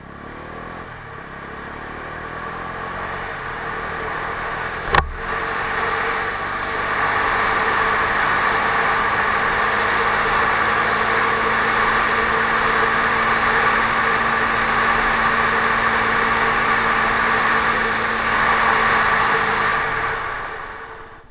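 A Bajaj Dominar 250 motorcycle engine drones steadily for about twenty seconds during an acceleration and braking run from 80, with a sharp knock near the start and the engine note fading away at the end.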